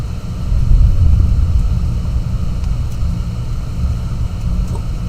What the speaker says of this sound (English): We have thunder.